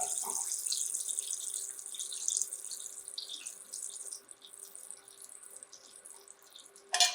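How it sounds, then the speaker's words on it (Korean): Chili oil runs through a fine sieve in a thin, steady hiss of trickling liquid that fades slightly, then ends with a brief clatter. "이런 고운 채에다가 걸러주시는 게 가장 좋아요"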